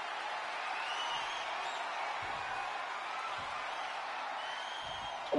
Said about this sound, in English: Fans cheering for Roman in the arena